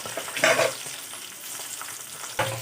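Peas, a bay leaf and green chili frying in a pan, a close steady sizzle with two louder bursts of crackle as the ingredients are stirred.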